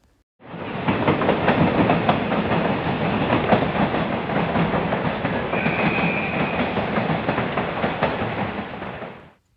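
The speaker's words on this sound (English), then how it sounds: "We now see T356 lead its train over the trestle." A diesel-hauled train led by locomotive T356 crosses the broad-gauge Eltham Trestle Bridge in suburban Victoria, a steady rumbling roar with rhythmic clickety-clack of wheels over the timber span, rising in quickly and holding loud throughout before cutting off.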